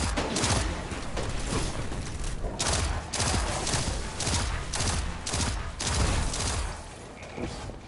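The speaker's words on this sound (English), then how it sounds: "Orbital bombardment incoming." Orbital bombardment in Destiny 2 rains down as a fast barrage of loud, booming explosions, one blast after another in an uneven rhythm, easing slightly near the end.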